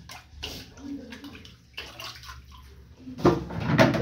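Hot water poured into a clogged toilet bowl to clear a blockage, a splashing, gushing pour that swells louder toward the end, with no talk.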